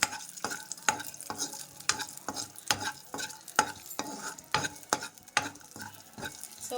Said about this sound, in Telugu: కాజు అండ్ కిష్మిష్ ఇవి కొంచెం మనం ఫ్రై చేసుకుందాం